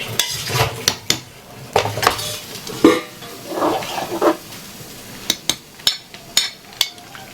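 A utensil scrapes and clinks against a pan in a steady stirring rhythm as tomatoes sauté, with a faint sizzle underneath, close and fairly loud.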